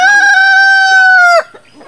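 A chicken lets out a single loud, drawn-out call lasting over a second, then cuts off abruptly, with faint rustling afterward and no talk.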